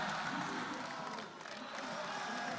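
Arena crowd noise from the audience at a Counter-Strike grand final between Furia and Avangar at DreamHack Open Rio 2019, a steady distant roar of cheering and clapping throughout with no clear speech.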